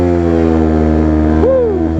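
A 1000cc Suzuki GSX-R motorcycle engine pulls hard under heavy acceleration during a launch, its loud steady drone rising in pitch and then surging again after a quick shift, close and continuous with no talk.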